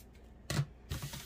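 Two short, crisp snips of scissors cutting scrap fabric, close and quiet, about half a second apart with no talking.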